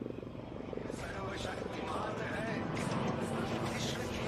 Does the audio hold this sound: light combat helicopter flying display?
yes